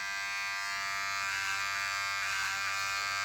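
A Braun beard trimmer made in Germany buzzes steadily and close up while shaving a head, a continuous high electric hum with no talking.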